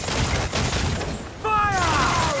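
Ship cannons firing in Assassin's Creed 4: Black Flag: a continuous rumbling barrage of booms, dipping briefly and then surging again, with a voice-like tonal call over the later part.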